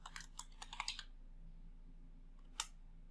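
Computer keyboard typing while renaming a spreadsheet field: a quick burst of close, light key clicks followed by a single isolated keystroke, faint and in a quiet room with no voice.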